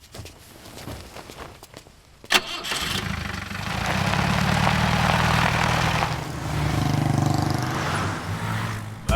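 Jeep engine cranking and catching with a sharp start, then a loud, steady rumble that swells and fades as it pulls away, faint shuffling before it.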